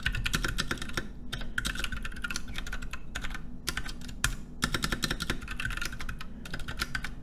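Rapid typing of Python code on a computer keyboard, dense clattering keystrokes in bursts with short pauses, close and alone without speech.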